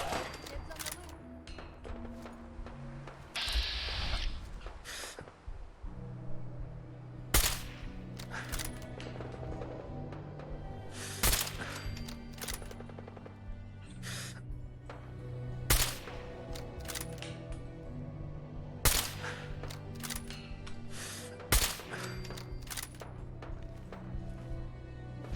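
Gunfire in the video game Fallout 4, sharp single shots and short bursts cracking out at irregular intervals over a droning background of music and ambience, some shots loud and close, others softer.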